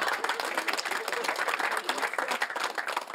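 A stand-up comedy audience breaks into dense, steady applause, many hands clapping together in a brief, fairly distant burst that holds evenly throughout.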